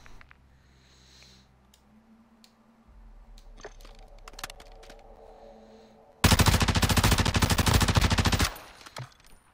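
A loud burst of automatic gunfire from the player in a Call of Duty game, lasting about two seconds after quieter clicks and rumbles, then cutting off abruptly.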